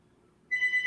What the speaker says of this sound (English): some phone's ringing